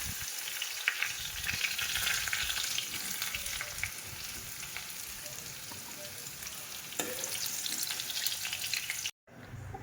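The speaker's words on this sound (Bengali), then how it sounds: "এখন আমি আলু কুমড়োটা ভেজে নিয়েছি। ভেজে নিয়ে এখন তুলে নেব আমি।" Potato and pumpkin pieces fry in hot oil in a wok, giving a steady, close, dense sizzle with occasional stirring scrapes, running continuously with a brief dropout near the end.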